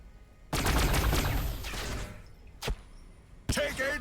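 Gunfire in the Warhammer 40000 Battlesector game: a loud burst of rapid shots crackles for about a second and a half, followed by a single sharp crack and another short volley, with a voice briefly heard.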